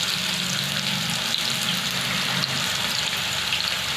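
Onion, garlic and coarsely crushed cumin fry in a pan with a steady, close, even sizzle that holds throughout.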